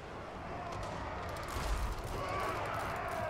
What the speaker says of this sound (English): If we weren't getting shot by all these bloody guns,